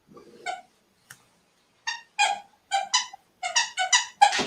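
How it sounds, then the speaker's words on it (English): A dog's squeaky toy, squeezed in a run of short high-pitched squeaks that come in uneven bursts and grow denser and louder toward the end, close by with no talk. "Well, that's a dog toy squeaking right there."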